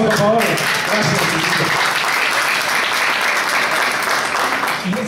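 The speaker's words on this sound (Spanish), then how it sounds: "Fuerte el aplauso, por favor." Audience at an awards event for outstanding children and youth applauding, a loud continuous roar of clapping that starts over a short stretch of talk and then carries on steadily on its own.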